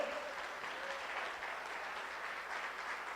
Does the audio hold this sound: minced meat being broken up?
no